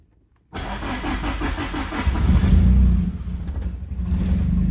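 Car engine running on E85 fires up from silence and idles roughly while cold, rising into a louder rev around the middle before settling back, close by with no talk.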